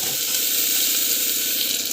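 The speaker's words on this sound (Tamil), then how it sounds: "பூண்டு போட்டுட்டு நல்லா வந்து வதக்கிட்டுக்கோங்க." Mustard seeds, cumin, onion and garlic sauté in a pan, making a continuous, close, even hiss of frying with no talk.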